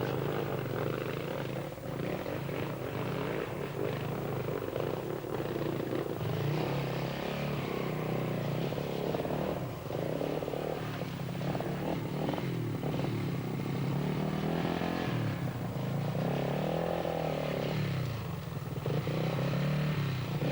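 A 350cc four-stroke enduro motorcycle races at the 1991 World Enduro Championship in Finland, its engine droning and revving steadily with clattering and rising and falling pitch, loud and continuous throughout.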